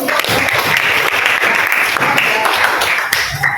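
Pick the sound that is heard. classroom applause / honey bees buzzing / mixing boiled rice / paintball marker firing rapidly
classroom applause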